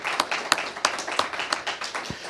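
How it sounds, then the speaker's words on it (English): Applause from a small congregation at Unity of Flagstaff honoring a board, a few people clapping in a loose, fairly sparse rhythm, with distinct individual claps standing out at moderate volume. "let's give them a big round of applause"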